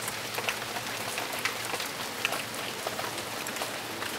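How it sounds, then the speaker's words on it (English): Steady rainfall patters on surfaces nearby, a dense, even hiss dotted with sharper individual drop hits, continuous and without any talking. "Hear my rain, Zilly?"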